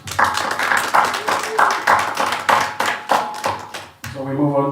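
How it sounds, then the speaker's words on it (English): Press-conference audience at the ZAA awards clapping for previous winners, a few seconds of brisk, close clapping over a steady background hum that gives way to a tonal sound at the end. "Please join in and give them a well-deserved round of applause."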